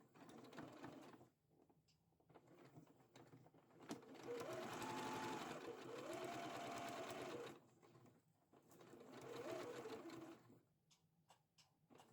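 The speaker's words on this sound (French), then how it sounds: "Donc on coud à 1 cm du bord en faisant un point d'arrêt au démarrage et un point d'arrêt à la fin." Sewing machine stitching fabric 1 cm from the edge with a backstitch at start and finish, heard in several separate runs of steady whirring with brief pauses and quiet handling between them.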